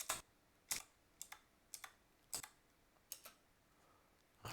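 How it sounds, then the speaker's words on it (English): Keys are tapped on a computer keyboard during slide editing, a sparse series of crisp single and double clicks spaced irregularly, close and quiet with no talking. "you can use the backspace and delete keys to sort of clean this up a bit"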